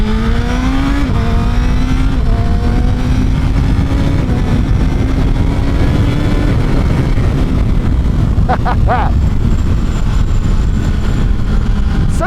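A 2017 Honda CBR 1000 SP2 sport motorcycle with a titanium exhaust roars loudly while being ridden, its engine pitch climbing through the gears with a steady rush of wind throughout.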